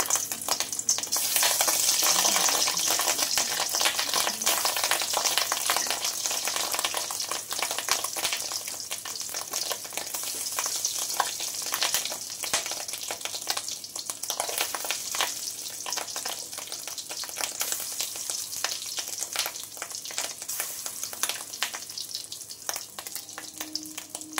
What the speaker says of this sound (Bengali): দেখো এরকম ছোট ছোট করে এগুলোকে বড়া ভেজে নেব।